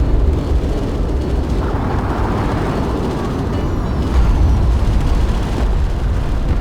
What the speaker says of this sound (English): Gaalsien carrier has been destroyed.